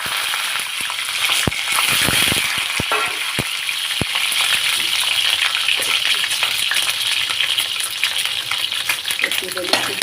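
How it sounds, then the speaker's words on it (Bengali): Eggs fry in hot oil in a wok, making a loud, continuous close sizzle with scattered sharp crackles and a few clattering knocks near the start. "এই ডিমগুলো একটু ভেজে নেব"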